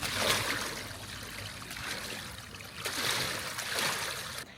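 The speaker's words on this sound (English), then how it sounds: "It's just kind of amazing to walk through here and to hear the water running down" Hot spring water runs into a steaming sewer-like drain in Japan, giving a steady close trickle and gurgle that swells and eases as it flows, with no voices.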